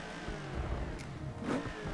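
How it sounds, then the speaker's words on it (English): Gavril Barstow with a dual exhaust revving in the BeamNG driving game, a steady mid-volume engine drone with a couple of swells, heard alone without talk. "the dual exhaust is. Yeah, okay, they are a lot weaker."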